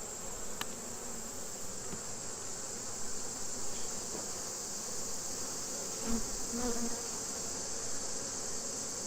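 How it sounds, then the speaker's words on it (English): Steady buzzing of many honeybees around an open hive fills the air close by, a dense continuous drone with a few louder swells as bees pass near. "Had a bunch of bees just come up at me."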